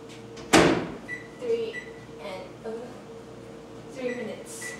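A dish is placed inside a microwave oven and the door is shut, giving one sharp clunk near the start followed by softer handling noises in a kitchen.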